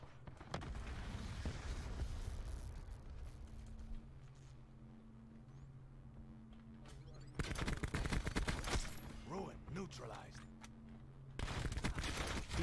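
Bursts of gunfire from an online match of Call of Duty: Black Ops 4, loud and repeated in clusters with quieter stretches of mechanical game noise between volleys.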